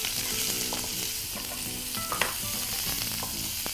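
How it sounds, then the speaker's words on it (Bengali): Onion fries with cumin in a pan, giving a steady crackling sizzle throughout, punctuated by occasional stirring clicks and scrapes. "পেঁয়াজটা একটু ভেজে নিতে হবে যাতে পেঁয়াজটা একটু নরম হয়"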